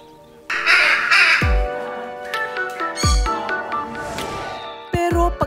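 Pet birds call loudly in the morning with harsh, raspy caws and squawks, several calls overlapping and repeating close by in irregular bursts.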